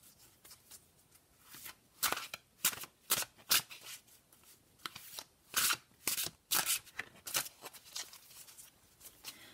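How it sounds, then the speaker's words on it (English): A tarot deck is shuffled by hand in quick, irregular bursts of crisp riffling and flicking card snaps, close and clear, with no talking. "I'm going to go ahead and give these cards a shuffle"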